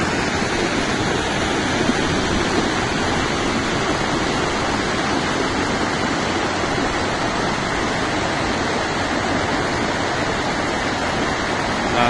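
Floodwater rushes loudly and steadily after twenty minutes of intense rain at Lentas, a dense, unbroken roar close by with no pauses.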